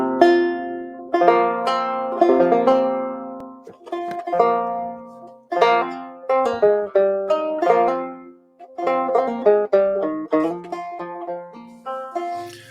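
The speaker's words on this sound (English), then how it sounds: "Let's see if I'll be able to do a banjo number here." A banjo is plucked in a solo number, with bright picked notes ringing in quick, rolling phrases and short pauses between runs. It is close and clear, with no talking.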